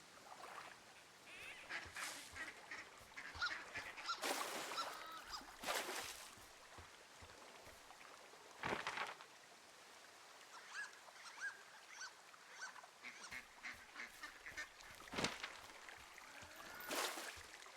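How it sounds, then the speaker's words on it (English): Duck quacking and goose-like honking from the outdoor forest ambience of the video game Firewatch, scattered bursts of calls at moderate distance over a steady background of nature sounds, with no talk. "There are duck sounds, but no ducks."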